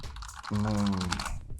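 Keys clatter on a UGREEN wireless keyboard in a brief, close burst of soft clicking, with a short voiced sound overlapping the middle of it.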